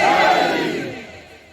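Large crowd at a religious political speech in Pakistan roaring a slogan response in unison, a loud massed shout that swells at once and then fades away over a second and a half.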